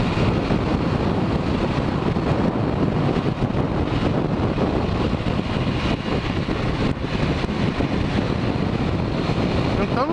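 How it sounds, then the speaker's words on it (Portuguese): Strong wind buffets the microphone in a loud continuous roar, with muffled road noise underneath, while riding fast on an open motorcycle along Rio de Janeiro's Linha Vermelha expressway. "tá ventando muito aqui na linha vermelha"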